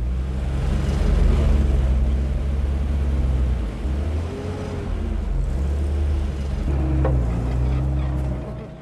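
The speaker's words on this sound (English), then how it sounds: "Nick sparks up the mighty Meteor engine" Rolls-Royce Meteor engine of a 1949 Centurion tank running: a loud, deep, rumbling idle with swelling and easing revs and a throbbing low drone throughout.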